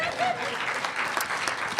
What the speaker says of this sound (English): Auburn and the three Steves, you don't need to hold your applause, you can applaud